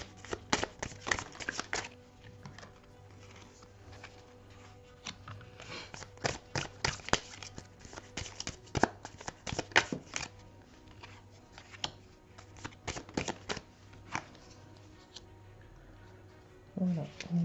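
Cards being shuffled by hand for a card reading, with dry crisp riffling clicks coming in uneven bursts over a faint steady hum, close and fairly quiet.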